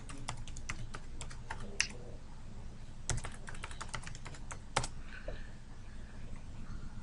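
Typing on a computer keyboard to log in to a point-of-sale configuration program on a back-office server: a rapid run of close key clicks with brief pauses and a few harder keystrokes.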